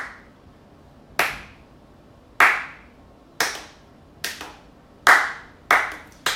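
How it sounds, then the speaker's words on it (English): A lone pair of hands delivers a deliberate slow clap, seven sharp, close claps spaced roughly a second apart, each with a short ringing decay in a quiet room. "we need more dudes to do the manly slow clap"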